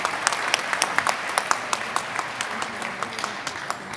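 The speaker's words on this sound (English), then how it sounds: "Another big round of applause for our panelists." Applause from a conference audience for a panel of speakers, a steady wash of many hands clapping at moderate distance, holding evenly for several seconds without fading.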